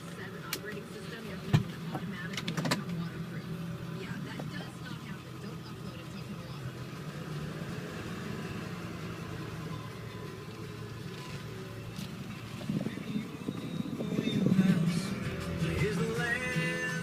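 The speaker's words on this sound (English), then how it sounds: "I'll give it some gas, show you how it shifts, how it accelerates." Low, steady engine drone from a 2000 Ford F250 with a 7.3L turbo diesel, heard from inside the cab as the truck drives and accelerates, with faint rattles and a swell near the end.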